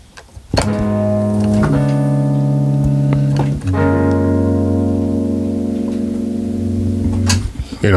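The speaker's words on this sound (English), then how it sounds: "if I'm playing a 7th chord, it's going to sound like this" A sustained seventh chord rings out, shifting twice to related voicings, full and resonant with a slow decay at the end.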